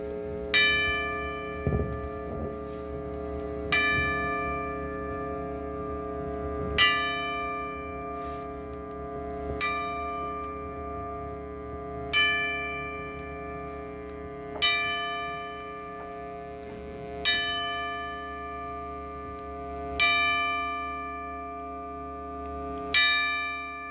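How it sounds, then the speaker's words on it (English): A bell rings out a slow ceremonial salute at a hall of fame induction, a steady series of evenly spaced strikes, each one ringing and fading before the next, clear and unaccompanied by voices. "And Webb, will you do the honors of a 10-bell salute?"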